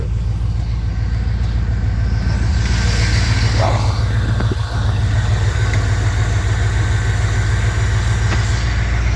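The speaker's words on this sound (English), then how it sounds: "She's starting to warm up now, starting to idle a little bit better." A 1984 Corvette Z51 with an L83 V8 and aftermarket fuel injection idles after a cold start, a steady low engine drone heard close up with the hood open, with faint rustling and brief noises over it.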